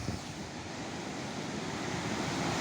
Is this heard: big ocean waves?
yes